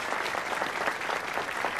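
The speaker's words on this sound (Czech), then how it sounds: "A teď zatleskejte krásné a inspirující Terry Carpenterové" An audience at a sales gathering claps steadily, a dense, even wash of applause from many hands filling the room.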